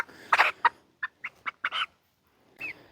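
A buff Orpington hen clucks close by, giving a short run of sharp, separate clucks with brief gaps between them, then a final slightly drawn-out call after a pause.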